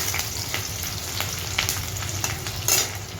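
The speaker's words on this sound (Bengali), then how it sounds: "এবার একটু নুন দিয়ে পেঁয়াজটাকে নাড়িয়ে নেব তাড়াতাড়ি মজে যাবে" Onions salted in a hot pan fry with a steady close sizzle while a spoon stirs them, scraping and clinking now and then across the noisy crackle, with no voices.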